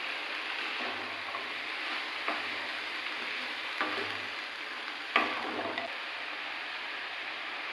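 Vegetables with capsicum frying in a pan for a homemade healthy soup, a steady soft sizzle with occasional stirring scrapes and small clicks, moderately quiet and continuous without talk.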